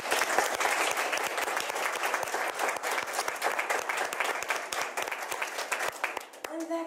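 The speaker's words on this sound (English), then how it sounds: "Let's give them a round of applause." Round of applause from a small audience for new inductees at a Psi Chi induction ceremony, close, distinct claps in a steady patter that thins toward the end, where a voice briefly speaks.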